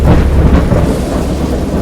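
A thunderstorm rages in the video game Dagon, with heavy rain pouring and a continuous loud rumble of thunder, close and enveloping, and no voices.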